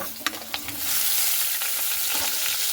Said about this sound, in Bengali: আলু আর ঝিঙেটাও 2-3 মিনিট একটু ভালো মতো করে ভেজে নেব